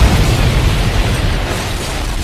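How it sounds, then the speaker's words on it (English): A big explosion booms in the sky in Sonic the Hedgehog 2 on the Sega Genesis, a loud, dense, rumbling blast that stays heavy and continuous before easing slightly. "It's not the sun, it's an explosion."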